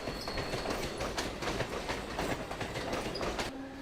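A Mumbai suburban local train on the Western Railway line runs along its tracks, with a rhythmic clickety-clack of wheels over rail joints inside a steady rumbling roar, fairly close and continuous.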